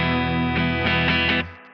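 A Gretsch electric guitar played through a spring reverb on a Do Good effect, slightly out of tune with a surf style: sustained chords struck a few times in quick succession, then a washy reverb tail that fades at the end.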